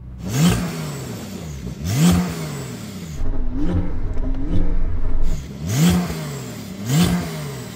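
A Porsche development car's engine is blipped hard during a drag race sound check, several close, loud revs rising and dropping, with a longer sustained hold in the middle, no voices over it.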